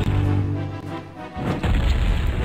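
Crashing boom of a platform being destroyed in the strategy game Warcraft II: Tides of Darkness, a loud low rumble breaking out midway over steady game sound and music.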